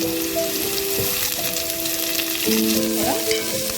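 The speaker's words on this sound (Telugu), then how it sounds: "ఇప్పుడు కరివేపాకు వేసుకుందాం" Curry leaves dropped into hot oil for a dal tadka, with cumin, onions and green chillies already in the pan, give a loud, steady close sizzle with crackling spits and some stirring clinks throughout.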